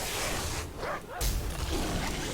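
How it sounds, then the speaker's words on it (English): An Iron Tide Mastiff guard dog in World of Warcraft barks and yips a few times over a dense, noisy game soundscape of swooshes and ambient rumble. "So we start by taking out an Iron Tide Mastiff doggy, a guard dog presumably."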